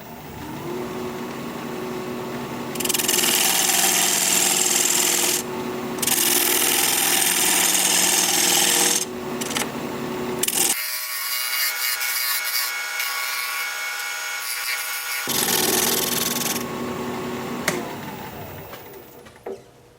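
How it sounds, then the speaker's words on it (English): Wood lathe tool cutting away wood beside a tenon on a spinning workpiece: a loud, close, steady rasping scrape in several long bursts, with a quieter hum of the turning lathe between cuts. "I'm just going to cut away some material between that and my tenon"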